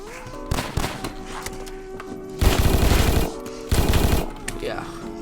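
Bursts of automatic gunfire from another player in Apocalypse Rising 2, two loud rapid volleys of shots over game ambience, with a short crack before them.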